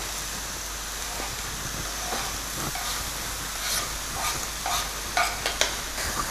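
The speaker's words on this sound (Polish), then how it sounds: "Mieszam z zawartością patelni i dodaję pokrojoną w plastry cukinię." Sliced zucchini is stirred into vegetables sizzling in a frying pan, giving a continuous bright hiss with irregular scraping stirs and a cluster of sharp utensil knocks toward the end.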